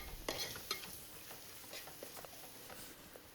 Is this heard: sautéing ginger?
yes